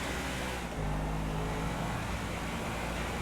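A street car picked up in a GTA game drives along with a steady, loud engine drone and road rumble, the tone shifting slightly as it rolls on.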